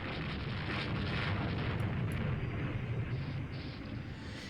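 A torpedo striking a ship in the naval strategy game Rule the Waves 2: a sustained, loud, dense rumbling blast that roars for several seconds and eases slightly at the end.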